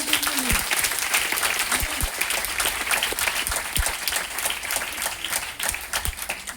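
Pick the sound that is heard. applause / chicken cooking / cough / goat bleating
applause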